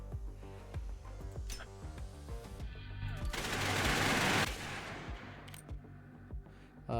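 Video game gunfire with crazy bullet spread: rapid bursts of shots crackle in quick succession, building into a dense, sustained volley before thinning back into scattered shots, moderately loud with no talk.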